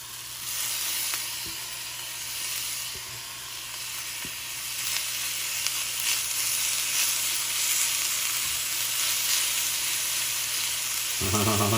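BBQ chicken sizzling in a cast iron skillet, a steady close hiss with a few small taps from the pan, ending in a short low-pitched burst.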